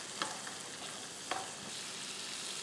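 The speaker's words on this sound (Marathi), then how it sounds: "आणि ह्याला चांगलं परतायचं." Chana dal, peanuts and coconut pieces sautéing in a pan, a faint steady sizzle broken by a couple of soft stirring scrapes, with no talking.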